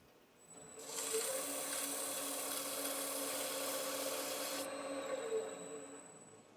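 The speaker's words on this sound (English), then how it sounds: "that is taken care of easily with just a little bit of 220 sanding to take care of that overburn" A steady, dense hiss of 220-grit sandpaper rubbing on wood, smoothing a burn mark on a turned platter, rising in at the start and holding evenly for several seconds over a low motor hum.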